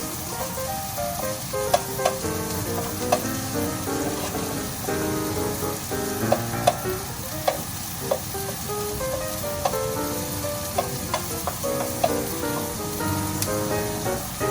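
Onions and garlic frying in a home kitchen pan, a steady bright sizzle running continuously with occasional clinks of a utensil stirring, fairly close and without talk.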